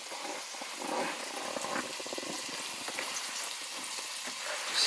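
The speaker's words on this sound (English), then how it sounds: "Just hear that sizzle." Venison steak sizzles in a skillet, a soft, steady crackling hiss with faint pops, heard fairly quietly and close, with no talking over it.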